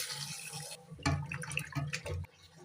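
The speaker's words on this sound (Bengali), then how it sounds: "এখন আমি মাছ কয়টা ধুয়ে নেব" Running water rinses a few small mola fish in a sink for a brinjal and potato curry, a steady splashing hiss broken by louder close sloshes and drips as the fish are handled.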